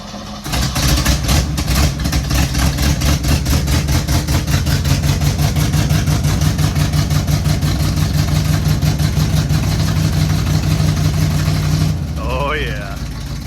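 A 1955 Chevy truck engine, run after sitting 23 years, chugs loud and close in a fast steady rhythm for about twelve seconds, then cuts off, leaving a brief quieter tail.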